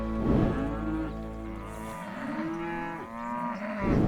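A cow lowing on a farm in New York, with long, deep, close moos rising and falling over about four seconds, nothing else heard.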